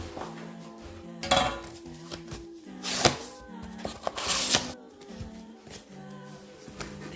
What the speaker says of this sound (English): I'm going to open the box now.